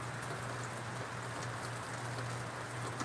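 Steady rain patters on a greenhouse, forming a continuous soft hiss throughout with a low steady hum beneath it and no voices.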